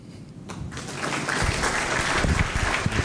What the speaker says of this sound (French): Vous venez de suivre ce rapport qui est en train d'être applaudi ici